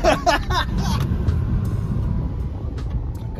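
A BMW E60 diesel car driving, its low engine and road rumble steady and close throughout, with a brief burst of voices at the very start.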